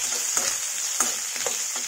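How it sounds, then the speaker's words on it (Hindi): Green chillies and chopped onion frying in hot oil, a steady close sizzle with several sharp spoon scrapes and taps as they are stirred. "तब हम इसमें 1 कटी प्याज डाल देंगे। तो इसे अच्छी तरह से फ्राई कर देंगे।"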